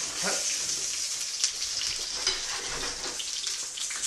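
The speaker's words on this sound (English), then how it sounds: "splatter some oil" Hot oil sizzles and crackles steadily in a pan while trout fries, a dense continuous hiss with small pops scattered through it, fairly loud and close.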